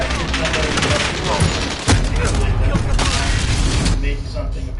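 Thrown grenade exploding amid a dense, continuous gunfire fusillade in a console shooter game, loud and busy throughout, with a sharp blast near the middle and voices talking over the battle.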